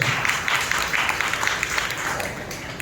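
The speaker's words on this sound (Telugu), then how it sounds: "బిగ్గరగా చప్పట్లు కొట్టి ప్రభువుని మహిమపరచు" A church congregation at Sunday worship claps loudly and continuously, a dense crackle of many hands with a few sharper accents. Faint voices sit under the applause.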